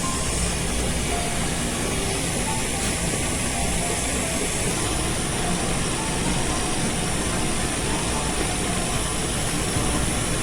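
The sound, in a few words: electric mixer beating cookie dough at low speed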